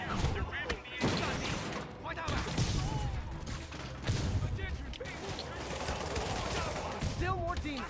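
Gunfire in a Spider-Man video game, a dense run of rapid shots and impacts close up, lasting throughout alongside game voices and effects.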